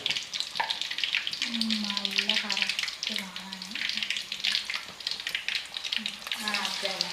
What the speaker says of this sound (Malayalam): ഇത് പൊരിക്കുന്നുണ്ടല്ലേ